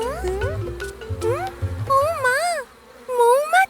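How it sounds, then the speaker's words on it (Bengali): Cartoon bees buzz in a rainy-weather scene: a series of warbling, wavering buzzes in short bursts that rise and fall in pitch, with soft low thumps beneath them. "এই মৌমাছিরা বৃষ্টি নামার খবর বয়ে এনেছে।"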